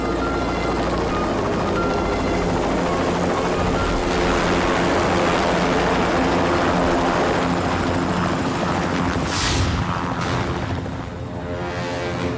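Loud, steady helicopter drone in flight with continuous rotor thrum and engine whine, filling the whole stretch with a brief swelling rush near the end.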